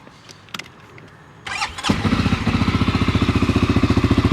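A 2023 CFMOTO CForce 600 ATV engine fires up after a few faint knocks, then revs under throttle with a loud, close, rapidly pulsing exhaust drone that holds steady to the end.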